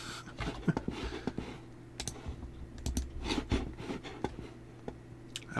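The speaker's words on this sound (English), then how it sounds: "I apologize if you hear my mouse or my keyboard." Quick, uneven tapping of a computer keyboard with occasional sharper mouse clicks while playing Minecraft, close by and fairly loud, no talking.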